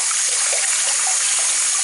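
Shower water streams down hair while shampoo is rinsed out, a loud, close, continuous hissing flow with faint splashy gurgles and no talk.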